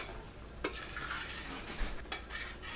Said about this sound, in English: this is cream and it can boil over. So just keep it stirred.